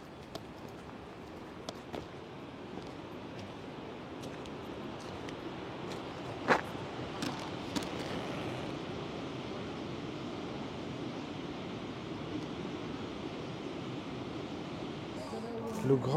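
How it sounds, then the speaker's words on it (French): Ocean waves wash along the Île de Ré coast, faint and distant, forming a soft steady surf with wind noise and a few light clicks and footsteps. "Ah, on sent l'odeur de l'océan et on entend les vagues."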